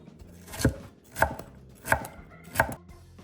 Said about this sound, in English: Okay, veggies are chopped.